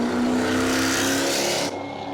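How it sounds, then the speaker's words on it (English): A Volvo and a Mustang race car launch side by side off the start line at a New Smyrna spectator match race. Their engines roar loud and close, rising through the revs before the sound drops away. "Green is out. Go, Volvo, go! He got off the line."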